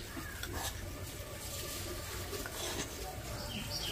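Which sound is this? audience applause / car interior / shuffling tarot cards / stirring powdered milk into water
stirring powdered milk into water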